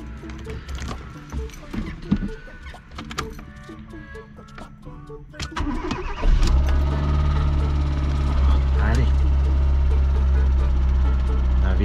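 A 1999 Fiat Seicento cranks and fires up after sitting two days. Scattered clicks and rattles come first, then the small engine catches around midway and settles into a loud, steady idle hum, with a voice heard briefly.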